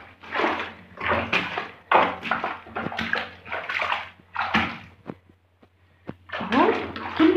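Blankets treaded underfoot in a bathtub of soapy water with gel detergent, making rhythmic sloshing and squelching pulses, about seven in steady succession, close and fairly loud with no talking.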